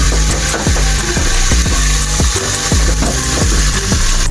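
Chopped onion sautéing in a pan for sinigang na bangus: a loud, steady sizzle with rhythmic scraping strokes from stirring about every half second. No one speaks.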